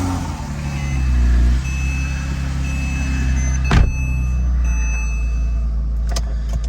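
A Porsche 987 sounds faint, steady warning beeps inside the cabin over a low engine rumble, with a brief thump near the middle and a few clicks at the end.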